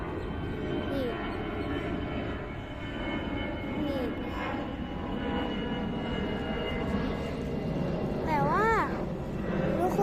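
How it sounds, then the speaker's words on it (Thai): An airplane flying high overhead gives a steady, distant engine drone, with voices talking nearby over it throughout. "เสียงเครื่องบินอะ แต่มันอยู่สูงมากเลยนะทุกคน อยู่บนท้องฟ้าสูง"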